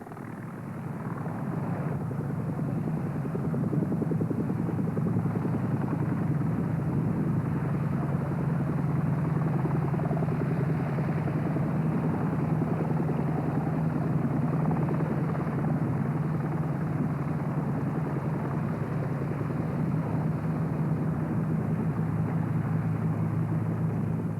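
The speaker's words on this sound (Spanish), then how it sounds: "El helicóptero puede tener un nombre más amable, como este que se llama Gacela" A Gazelle helicopter drones steadily overhead, its rotor thump and engine roar loud and continuous, holding near for the whole stretch.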